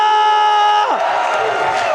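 A loud esports arena crowd roars and cheers at a Mobile Legends MPL match between RRQ and Bigetron, a dense wash of whoops and shouting rising as a sustained tone drops away beneath it.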